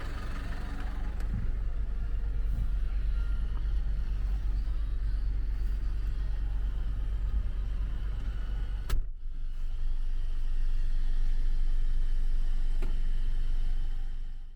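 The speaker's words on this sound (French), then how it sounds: "je prends place dans la cabine et c'est parti pour un petit tour de camion" Truck engine running steadily during a ride in the cab, a constant low rumble with a brief sharp interruption partway through, no talking.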